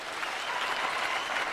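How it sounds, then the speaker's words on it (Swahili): Dense, continuous applause rises from a large crowd of young people at a Kenyan political rally. It is steady and fairly loud throughout and heard on its own. "kila kijana ambaye amefika hapa, jipigieni makofi jameni"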